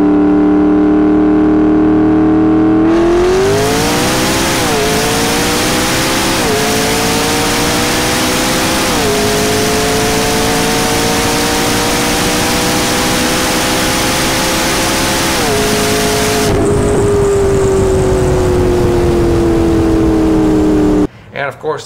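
A McLaren P1 supercar accelerates hard during a rolling shoot, its engine note climbing through several gear changes in a loud, sustained run before cutting off abruptly near the end.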